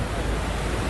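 Floodwater rushes fast along a road in Nakhatrana, Kutch, Gujarat during heavy rain, a dense continuous roaring wash with no breaks, loud and close for a brief moment.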